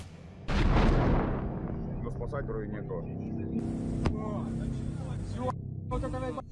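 Kamikaze drones striking two ships on the Caspian Sea: one sudden heavy blast that decays into a rumbling, crackling roar, with bursts of noisy hiss afterward.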